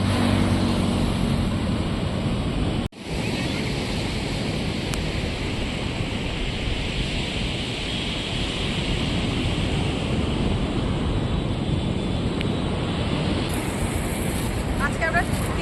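Sea waves wash on the beach at Chandrabhaga, Puri, a broad, continuous roar of surf mixed with wind buffeting the microphone, with a brief dropout partway through.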